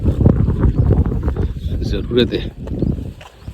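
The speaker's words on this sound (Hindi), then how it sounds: "ज़बरदस्त हवा चल रही है यहाँ पे, ठंडी एकदम।" Strong, cold wind blows at a riverside hut by the Narmada, a steady rough buffeting that rumbles against the microphone beneath a man's nearby speech.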